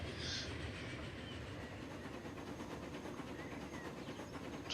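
Train rolling on tracks in the Transport Fever video game, a steady low rumble with faint rhythmic clatter, quiet and continuous.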